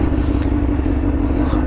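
A 2018 Honda CBR 600 RR with low mileage idles steadily while warming up, a close, even, throbbing engine drone with a faint mechanical clatter running throughout.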